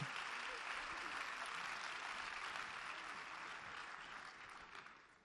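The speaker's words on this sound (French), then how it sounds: "on peut les applaudir encore très fort" Sustained applause from a gala audience fills the room, a dense steady wash of many hands that carries evenly before easing off slightly near the end.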